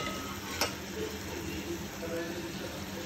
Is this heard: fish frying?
yes